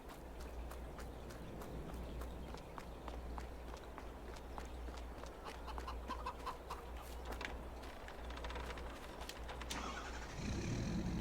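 A truck engine rumbles to life near the end in Farming Simulator 22, after steady footsteps, a constant low hum and clucking chickens around a farm, with no talk.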